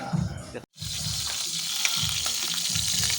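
Sikad sikad shellfish sautéing in a pan, a loud close sizzle with rhythmic scraping stirs and clinking shells, after a brief cut of silence near the start.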